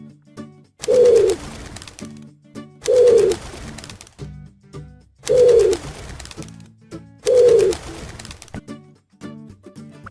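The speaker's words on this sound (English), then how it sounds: "Pigeon." Pigeon cooing in four evenly spaced, loud, close bursts, each a throaty rolling coo separated by short pauses, with no talking.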